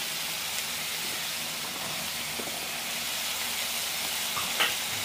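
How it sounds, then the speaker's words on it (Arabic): Chicken breast and julienned onion sauté in a hot pan, giving a steady, close sizzle throughout with a few faint clinks of stirring and no talking. "شوحي الصدق كويس، وبعد ما يتشوح معاكي هنزل ببصل مقطعاه جوليان"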